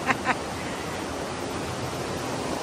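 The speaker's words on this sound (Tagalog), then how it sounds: "Ayan guys, Daranac Falls." Constant rushing hiss of Daranak Falls in Tanay, Rizal, steady white-noise water roar filling the clip, with a couple of brief clicks at the start.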